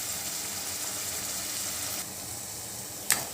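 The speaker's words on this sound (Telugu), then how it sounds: "ఇవి వేగాలండి" Gathi curry ingredients frying steadily in a pan, a soft continuous sizzle with a brief clatter near the end.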